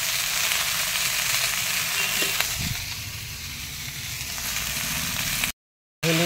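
Ginger and cumin frying with stalks in a pan, giving a steady close sizzle and hiss with a few soft stirring knocks, stopping abruptly just before the end.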